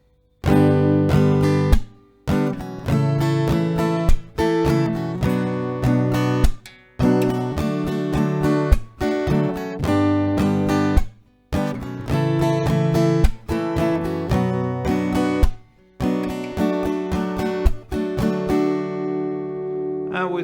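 Slow acoustic guitar strumming of a song's chord progression, repeating in steady rounds of bright, close chords with brief pauses between changes and no voice over it.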